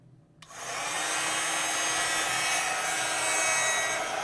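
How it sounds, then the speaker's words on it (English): An embossing heat gun starts up after a short silence and blows hot air in a steady, loud, breathy whoosh that holds evenly for the rest of the stretch, with no voices. "I'm going to heat this using my embossing heat gun, which is very concentrated heat"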